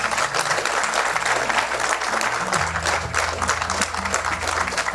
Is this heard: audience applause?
yes